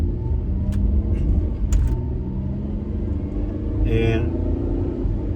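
A 2008 Dodge Grand Caravan gathering speed to about 35 mph: steady low road and engine rumble heard from inside the cabin, with a few brief rattles and a short word from the driver.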